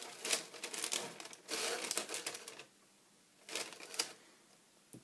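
Paper being handled and laid onto a cardboard box for a homemade pinhole camera, three bursts of crisp rustling and crinkling separated by quiet pauses, close and fairly faint.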